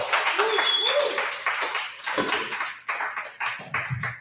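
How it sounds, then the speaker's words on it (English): Audience applause at an open mic comedy show, a modest crowd clapping with scattered whoops and voices mixed in, rising and dipping in waves before tapering off. "Give it up for applause."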